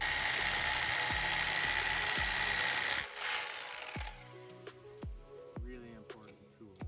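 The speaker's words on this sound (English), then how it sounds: "Really important tool for planting on bedrock. Get yourself a good hammer drill." A hammer drill bores into bedrock for planting a raised Marionberry bed, a loud continuous grinding drone for about three seconds, then stopping, followed by a series of sharp separate knocks and clatters.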